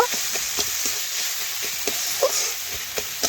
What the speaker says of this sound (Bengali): এইভাবে নাড়াচাড়া করে আমি মিশিয়ে নেব